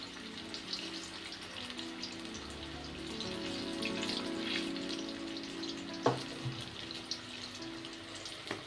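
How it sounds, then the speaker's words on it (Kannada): Sweet corn fritters frying in hot oil, a soft, steady sizzle and bubbling at close range with a single sharper crackle partway through, no voices. "ಇವು ಒಂದು 5 ರಿಂದ 10 ನಿಮಿಷ ಚೆಂದಾಗಿ ಎಣ್ಣೆ ಒಳಗೆ ಫ್ರೈ ಆಗ್ಬೇಕು."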